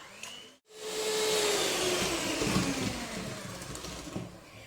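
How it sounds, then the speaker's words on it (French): An electric hand mixer whirs steadily and loudly as it beats chocolate cupcake batter, starting up after a brief pause and running continuously with a slightly wavering motor pitch. "Maintenant, on va se prendre notre batteur."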